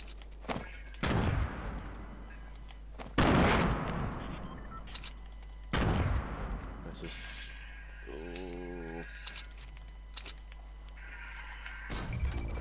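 Fortnite gunfire: several loud single shots spaced a few seconds apart over a steady low game hum, with scattered softer effects between and someone talking throughout.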